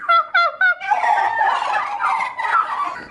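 Several turkeys gobble on a farm with other birds: a quick burst of rattling gobbles at the start, then a longer, busier run of overlapping gobbling calls, loud and close.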